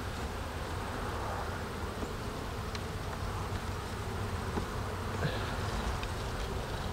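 Honeybees buzz steadily and densely around wax frames at a beehive outdoors, a continuous close swarm hum with no voices.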